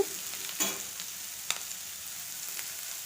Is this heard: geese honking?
no